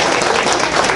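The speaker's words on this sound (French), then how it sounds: "Applaudissements à toi" An audience at a Haitian cultural night claps in a dense, steady burst of applause, full and close, lasting only a moment.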